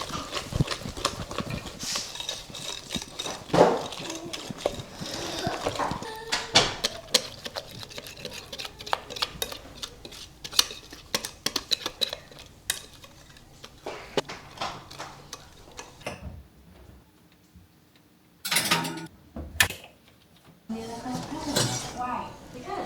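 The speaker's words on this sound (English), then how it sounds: "Now I'm just going to mix it till it's all combined." A bread mix stirred with added sugar until combined, heard as a steady rapid clatter of a utensil against a bowl, close and busy, with a pause near the end before the mixing resumes.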